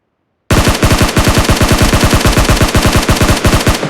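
Sustained automatic gunfire in PUBG Mobile, a loud close stream of rapid, evenly spaced shots that bursts in abruptly and runs unbroken for over three seconds.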